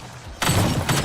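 Gunshots in The Precinct police game set in Averno City: a sudden loud burst of rapid shots breaks in after a quiet moment, followed by a second sharp report, close and dense.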